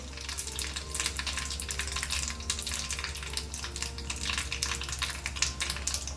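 Mustard seeds, cumin and white sesame seeds sizzle in hot oil as a tempering for soft besan khaman dhokla, a continuous loud frying hiss dotted with rapid crackles and pops, heard alone.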